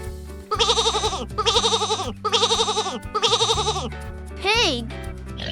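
A sheep gives four long, wavering bleats in steady succession over a bouncy children's nursery music backing, followed by a different rising animal call at the end.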